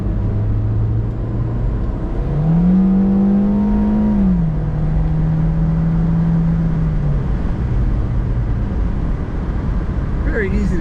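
A 2004 Volkswagen New Beetle Convertible drives and corners, its engine humming steadily with a clear rise and settle in pitch as it pulls through a bend, under a voice.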